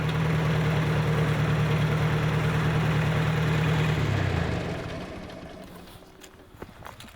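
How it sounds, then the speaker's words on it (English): A 2010 tractor engine idles with a loud, steady low drone for about four seconds, then fades away, leaving quieter scattered noises. "How old is that tractor, Tracy?"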